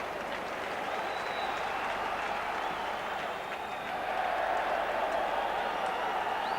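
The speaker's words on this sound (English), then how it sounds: "That's got the crowd going a bit." Football crowd roaring and applauding at a 1991 UEFA Cup first-round match between Liverpool and Kuusysi, a steady, dense wall of cheering and clapping that swells slightly louder toward the end, with no commentary over it.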